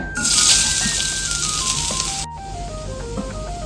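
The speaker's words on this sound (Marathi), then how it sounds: "त्यासाठी आपण एक चमचा तूप घालूया खवलेलं खोबरं आपण कढईत ओतूया" Grated coconut poured into ghee in a kadai gives a loud, bright sizzle that starts abruptly, holds steady, then cuts out briefly before a softer, continuing hiss with faint background music.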